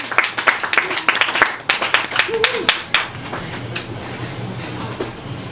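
A small live-show crowd at Otto's Shrunken Head claps for a performer, starting as brisk close clapping that thins and fades toward the end under a low background hum.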